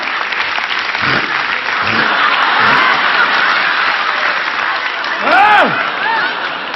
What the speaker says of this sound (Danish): Hold op med det klapperi for helvede, der!